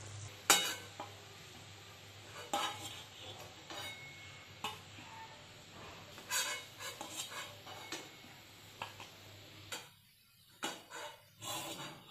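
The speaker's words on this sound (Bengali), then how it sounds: "এখন আমি সেগুলোকেও ভেজে নিই" Banana flower croquettes (mochar chop) frying in oil give a soft, quiet sizzle, broken by scattered clicks and stirring clatter, briefly falling away near the end.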